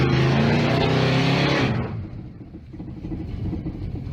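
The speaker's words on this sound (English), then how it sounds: "when you give it gas, you don't want to just lightly power brake it" A car engine roars loud and close while power braking for a burnout, a strong revving drone that cuts off abruptly, leaving a low rumbling idle beneath.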